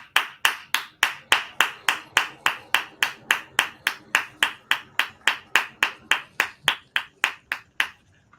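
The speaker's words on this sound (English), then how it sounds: "I'm gonna give you a hand clap." One person claps alone at close range, about two dozen crisp, evenly spaced claps in a steady rhythm that stops abruptly near the end, with no talk in between.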